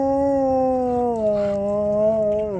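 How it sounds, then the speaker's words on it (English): A dog gives one long, loud, mournful howl close by, held steady and then dipping into a whining tone near the end, with no other sounds over it. "if you guys hear dogs in the background"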